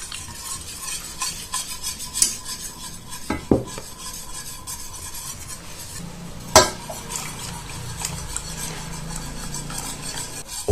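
A spoon stirs milk gradually into corn flour in a saucepan for béchamel, a continuous scraping swirl with scattered metallic clinks against the pot, two sharper knocks standing out, close and moderately loud without speech.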